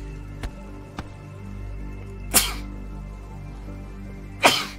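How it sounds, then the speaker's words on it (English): Two sharp sneezes from a person playing the game Riverbond, sounding close and loud, spaced about two seconds apart over a steady low background hum, with two faint clicks before them. "why do I keep sneezing?"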